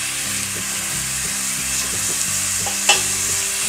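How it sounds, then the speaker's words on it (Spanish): Onion browning with salt in a pan sizzles loudly and steadily up close, with repeated scraping strokes of a stirring utensil and one sharp knock near the end; no talking. "Vamos a dorar nuestra cebolla, le vamos a agregar un poquito de sal para que suelte un poco sus líquidos y dore bien."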